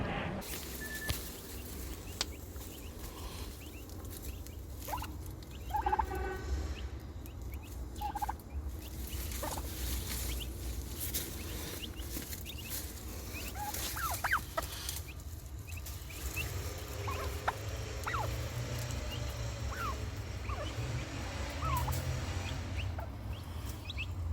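Turkeys gobbling and clucking around a farm enclosure, several short, scattered calls repeating through a quiet outdoor background, some close and some farther off.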